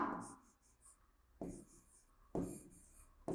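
Pen strokes writing Hindi letters on paper: three short scratchy bursts of writing separated by brief pauses, close and fairly quiet, with no voices.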